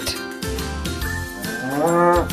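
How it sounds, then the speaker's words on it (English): A cow lets out a long, low moo that swells toward the end, heard over gentle background music with a faint tinkling. "cow."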